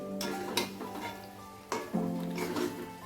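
Pointed gourd and green chillies are stirred together in a pan, with faint scraping of a spatula and a few light clinks against metal over a gentle background sizzle, nearby and quiet.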